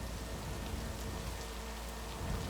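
Rain falls steadily in an unfinished interior area of a video game, a soft, even hiss of drops on surfaces with no gaps and no one speaking.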